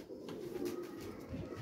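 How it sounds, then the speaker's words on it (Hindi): A pigeon coos softly and steadily in a low, rounded murmur over a brief stretch, with faint background noise and no speech. "ए कबूतर ही आ देख लो"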